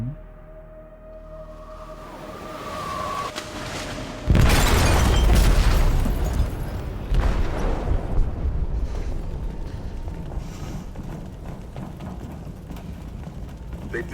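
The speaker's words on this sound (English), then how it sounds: "They detonated an explosive in the hold." A bomb goes off in a ship's hold in the video game Detroit: Become Human: a sudden heavy boom after a quiet hum, then a long rumbling, crackling roar that slowly fades.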